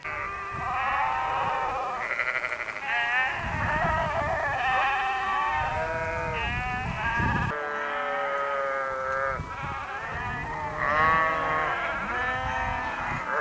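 A flock of sheep and young lambs bleats on and off throughout, many overlapping voices near and far along a Colorado high-country trail, with no talking.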